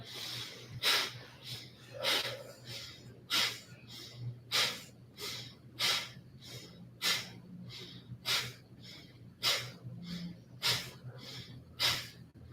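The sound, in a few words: deep breathing exercise, forceful inhales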